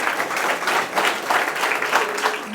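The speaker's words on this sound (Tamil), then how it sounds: "பலத்த கைத்தட்டலுடன் வரவேற்போம்." An audience at a political gathering gives a guest a hearty round of applause, many hands clapping in a steady rolling wave at moderate volume.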